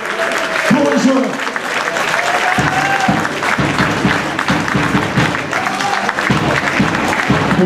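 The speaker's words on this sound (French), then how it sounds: "S'il vous plaît, des applaudissements pour les joueurs." Spectators at a French amateur football match applaud the players, a sustained clapping from the crowd that plays under an announcer's voice on the public address.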